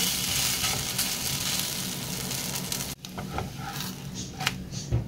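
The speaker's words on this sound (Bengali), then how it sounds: "তেলটা লাগিয়ে দিয়েছি, দিয়ে উল্টো দিকটাও আমি ভালো করে ভেজে নেব।" Egg snack frying in oil in a pan, its second side browning, gives a steady, close, full sizzle that dips briefly near the middle, then crackles on with scattered pops.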